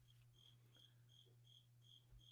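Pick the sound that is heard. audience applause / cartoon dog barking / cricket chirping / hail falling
cricket chirping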